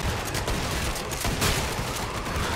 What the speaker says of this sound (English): Oh, these shotguns are insane.